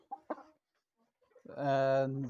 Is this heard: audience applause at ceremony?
no